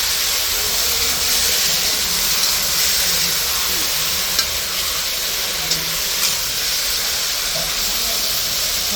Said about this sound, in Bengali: এখন জলটা দিই